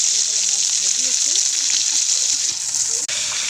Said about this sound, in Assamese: এইফালে মাছ ভাজি আছে